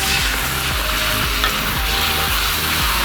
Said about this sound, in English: I want to get that paste in there. That sizzle.